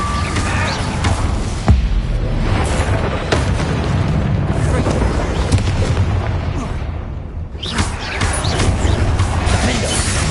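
Spell explosions in the Hogwarts Legacy video game, a loud run of booming blasts and crashes with heavy low rumble, one sharp hit near the start and another burst near the end, with voices mixed in.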